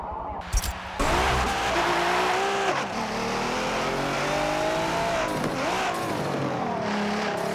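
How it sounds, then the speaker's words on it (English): Car tires squealing during Forza Motorsport 7 racing, a sustained wavering screech over a loud engine drone, continuous and close. "Make that tire squeal."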